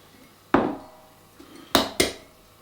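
Eggs cracked against a cup, one sharp tap followed later by two quick knocks in succession, close and crisp with quiet between.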